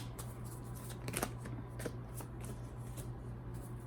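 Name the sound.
tarot cards being shuffled and pulled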